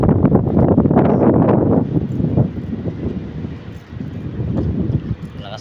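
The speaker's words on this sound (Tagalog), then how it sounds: "Lakas ng hangin guys" Strong typhoon wind buffets the microphone in heavy, roaring gusts that ease off midway and then pick up again, with a voice briefly audible.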